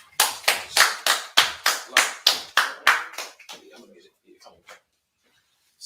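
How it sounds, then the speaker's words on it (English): A group claps together at a Monday history class meeting, with about a dozen loud, close, evenly spaced claps that then thin out into a few scattered claps and die away. "I'm gonna clap it up one more time for me."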